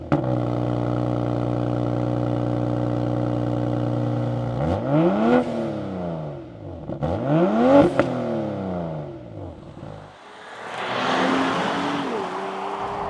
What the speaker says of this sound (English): let's hear what that B58 engine sounds like